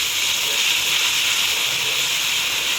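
Ginger, garlic and green chilli paste sizzles in a pan with onions and tomatoes for mutton pulao, a steady loud frying hiss with no talk over it.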